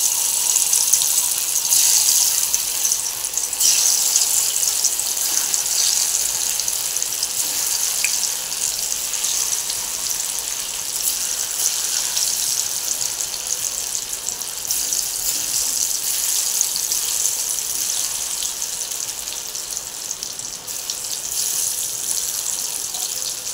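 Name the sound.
soybean chunks deep-frying in oil until crispy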